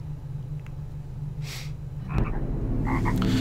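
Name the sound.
frogs croaking in video game Medievil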